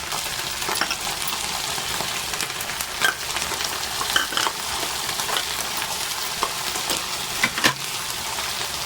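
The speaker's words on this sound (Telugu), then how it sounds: "ఈ బాగా ఫ్రై అవ్వాలి" Ginger and green chillies fry in hot oil for pulihora, a dense continuous sizzle up close with scattered crackles and a few louder scraping stirs.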